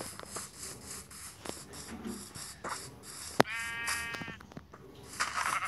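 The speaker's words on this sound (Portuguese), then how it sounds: "Quanto ovelha." Sheep bleating in the video game Minecraft: one clear wavering bleat in the middle, amid soft clicks and game ambience, with faint background noise before and after.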